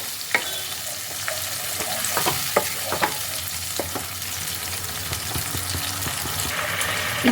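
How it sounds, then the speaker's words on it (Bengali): Spice paste frying and being stirred in hot oil for stuffed Kashmiri aloo dum, with a steady sizzle broken by scattered clicks and scrapes of a spatula against the pan, close and moderately loud without voices. "মশলার পেস্টটাকে এবার তেলের মধ্যে খুব ভালোভাবে কষিয়ে নেবো"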